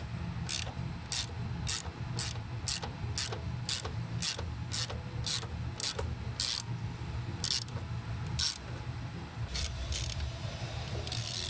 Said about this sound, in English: with a long extension, get a 10 millimeter socket,